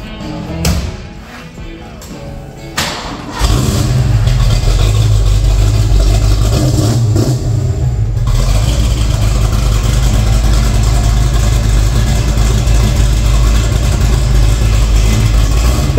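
A Foxbody Mustang with a 331 stroker engine and an F-series cam cranks and fires, then settles into a loud, close, choppy lumpy idle with a deep uneven rumble; brief talk comes before the start.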